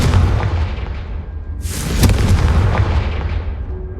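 A fire spell cast in the Hogwarts Legacy video game bursts into a loud explosive boom that rumbles on, with rolling blast noise over dense low-end game sound.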